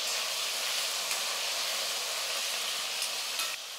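Green chilies and brinjal sauté in a pan, giving a steady, moderately quiet frying hiss with a couple of faint taps, alone without talk.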